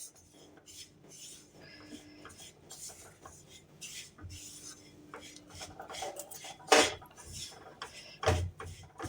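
A spoon or spatula scrapes and stirs flour being dry-roasted in a pan for milk sandesh, giving soft continuous rubbing with a few sharper metallic clinks near the end, close and fairly quiet, with no talk.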